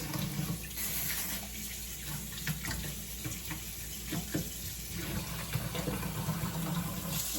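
Running water rinses light soil from the roots of an alocasia houseplant, a steady close hiss and splash that continues the whole time with small spattering shifts and no voices.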